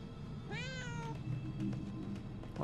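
A cat meows once in the video game Murdered: Soul Suspect, a single drawn-out mew over a low steady game background, fairly close and moderately loud.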